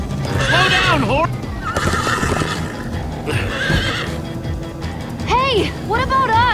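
In Minecraft Story Mode, a horse neighs loudly several times in quick bursts over galloping hoofbeats, while characters talk amid the commotion.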